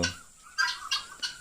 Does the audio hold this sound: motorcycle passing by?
no